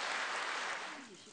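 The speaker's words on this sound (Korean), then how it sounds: "여러분 따뜻한 박수 부탁드립니다" Audience applause at a government Sewol ferry remembrance event, a broad wash of clapping that fades after about a second as a voice begins underneath.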